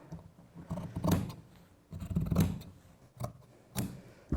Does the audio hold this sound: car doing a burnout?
no